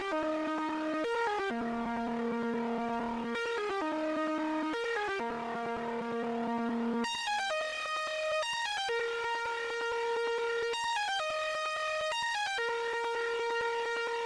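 A counter melody played on a thin, odd synth preset over the main chords of an emotional FL Studio trap beat, with a steady stepping line of held notes running continuously and evenly over sustained chords, no voices.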